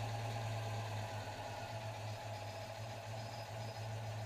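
A Citroën 2CV engine idles on its own with the dipped headlights switched on and off, a low, even, rhythmic chug with a faint pulsing beat that shifts slightly as the electrical load changes.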